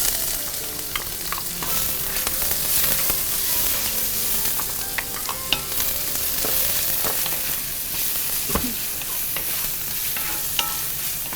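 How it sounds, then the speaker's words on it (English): Onions sizzle loudly in a hot pan with a steady, dense frying hiss, broken by occasional clicks and scrapes of stirring, close up and without speech. "And then we're gonna saute some garlic and onions."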